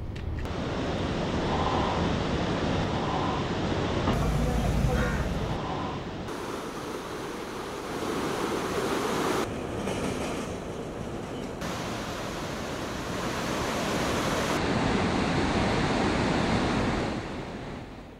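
Swollen river water roars through the open gates of the Koshi barrage, with 28 of its 56 gates open, producing a loud, continuous rushing wash that holds steady throughout with slight shifts in intensity.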